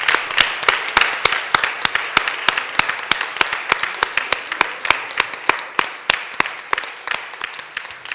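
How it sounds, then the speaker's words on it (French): An audience at an awards ceremony claps in a steady, evenly spaced rhythm of crisp, distinct claps, close and moderately loud, carrying on for several seconds. "je trouve chaque année un prétexte pour le faire applaudir"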